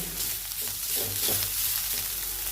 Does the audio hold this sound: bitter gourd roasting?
yes